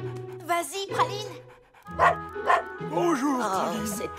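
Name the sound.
small dog barking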